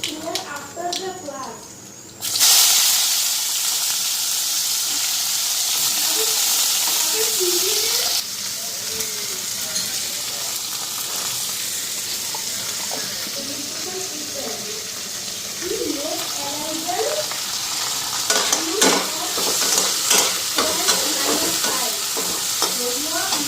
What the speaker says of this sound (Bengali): তিতা করলা ভাজাটা বসায় দিই